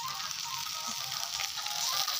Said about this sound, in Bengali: আর এদিকে আমি রান্না করতেছি ঢেঁড়স আলু ভাজি